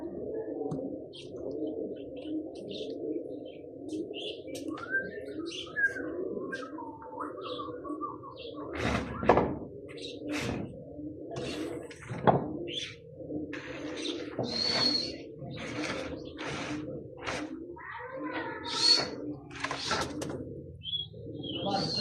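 Nawab pigeons cooing and calling on a rooftop loft used for champion pigeon keeping in Burewala, with repeated soft coos and scattered chirps close by, broken by a few louder bursts.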